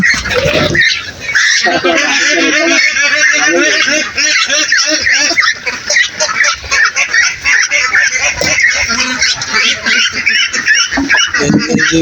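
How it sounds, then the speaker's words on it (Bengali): A dense flock of farm ducks quacks and squawks continuously at close range, a loud overlapping chatter of honking calls throughout, with a person's voice briefly mixed in. "ওই যে হাঁস দেখতে পাচ্ছেন,"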